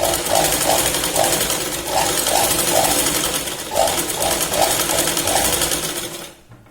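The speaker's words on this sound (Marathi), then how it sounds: "सुई आपण न काढता परत फ्रंटला डबल शिलाई घेतली" A sewing machine stitches a katori blouse in fast rhythmic bursts of needle chatter, each run lasting a second or so with brief pauses between, close and steady until it stops at the end.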